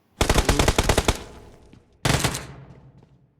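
Automatic gunfire in PUBG Mobile as a player shoots at an enemy: a loud rapid burst of about a dozen close shots, a short pause, then a second burst fading into echoing tail.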